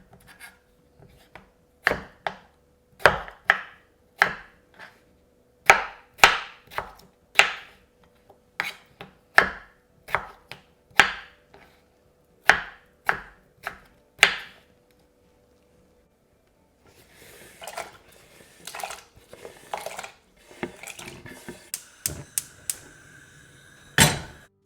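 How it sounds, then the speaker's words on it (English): Potatoes are cut into small pieces with a knife on a board, sharp distinct chops in irregular bursts, then a pause and rougher scraping and clattering as the pieces are gathered. "I'm chopping it up into small pieces"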